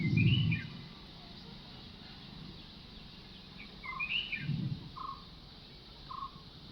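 Birds call around a village school on a quiet morning, with a few short, bright chirps and whistles scattered at moderate distance over a hushed background, along with a couple of soft low thumps.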